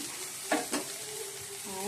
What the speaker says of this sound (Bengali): আর এদিকে ডালটাও ফোড়ন দিয়ে দিচ্ছি